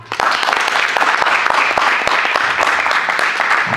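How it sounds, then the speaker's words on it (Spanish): A church congregation bursts into loud, dense applause during a service, many hands clapping continuously after a brief quiet start and holding steady throughout. "Denle un aplauso al Señor."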